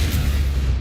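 Confringo blasting spell exploding in the video game Hogwarts Legacy, a short, loud, deep boom with sustained low rumble filling the whole moment.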